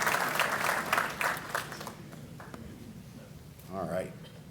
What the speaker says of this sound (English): so round of applause for those folks.